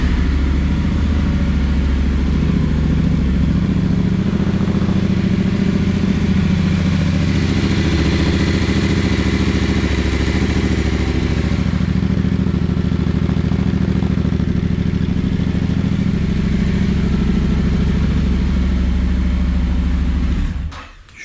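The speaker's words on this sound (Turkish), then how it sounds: "Yapalım bakalım marşımızı." A Yamaha Tenere 700 motorcycle engine with a GPR exhaust runs at a steady, fairly quiet idle with a low throbbing rumble and light mechanical clatter, continuous for about twenty seconds.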